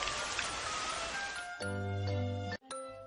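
A steady wash of rain-like hiss fills the first second and a half, then gives way to bright chiming tones and a sharp stop.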